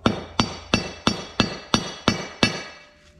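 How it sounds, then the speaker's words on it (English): Eight evenly spaced metallic hammer taps on a coilover suspension part of a Mitsubishi Eclipse Spyder GST ring out close by, each sharp strike followed by a short ringing decay. "So I'm gonna knock it down slightly with my hammer here. Just tap it slightly."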